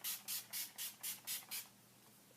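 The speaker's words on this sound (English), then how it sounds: "setting spray." Urban Decay De-Slick setting spray misted in six quick, evenly spaced hissing bursts, fairly faint and close, with no talking.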